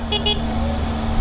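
Two short car horn toots in quick succession over steady road and engine noise.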